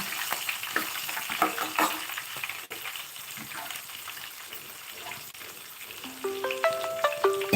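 Green chillies and spices crackle in hot oil with a soft, steady sizzle and occasional stirring clicks while a voice talks over the cooking. A short run of electronic ringtone notes chimes near the end.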